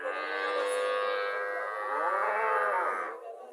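A dairy cow at a cattle market at Mirshani, Comilla, lets out a long, loud, drawn-out moo lasting over three seconds, rising in pitch partway through, close by and with no talk over it.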